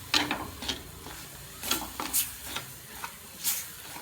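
Wooden spoon scraping through onion, garlic and chili powder in a pan for a Tamil sardine fish curry, giving irregular, close scrapes and knocks about every half second over a faint background hiss.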